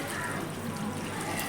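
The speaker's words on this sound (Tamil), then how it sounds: "நம்ம தேவையான அளவுக்கு தண்ணி ஊற்றிக்கலாம்" A steady stream of water pours continuously into a cooking pot of fish curry, close by, with a hissing, splashing texture.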